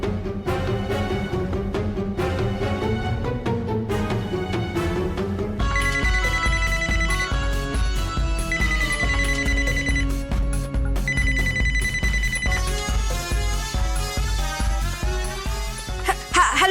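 A telephone rings with a melodic ringtone that starts low and then switches to a bright, repeating electronic tune, loud and continuous throughout.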